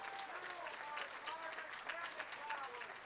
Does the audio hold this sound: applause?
yes